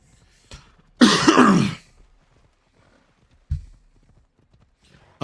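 Horse hooves clip-clop on a road in the video game Assassin's Creed Odyssey: a loud, dense burst of hoof strikes for under a second, then a single softer thump, with no talk over it.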